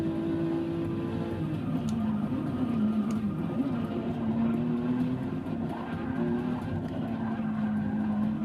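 A Porsche in Forza 6 skids under hard braking, its tires letting out a steady, wavering squeal over the constant engine drone, loud and close for several seconds.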